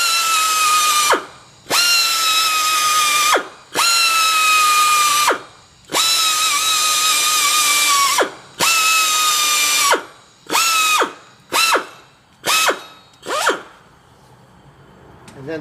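Cordless power drill spinning a cleaning tool over the wheel hub studs of a 2015 Kia Forte 1.8L during front brake work, loud whirring bursts of a few seconds each, then quicker short pulses, close by.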